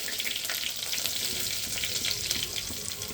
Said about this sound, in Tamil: லைட்டாக வெந்தயம் நல்லா போட்டாச்சு போட்டுட்டு கடுகு நல்லா புரிஞ்சிச்சு கருவேப்பிலாம்